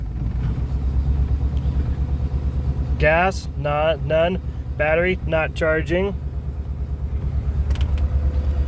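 A 1947 Cadillac four-door sedan engine idles after a cold start with a steady low rumble throughout, while someone talks nearby over it in the middle of the stretch.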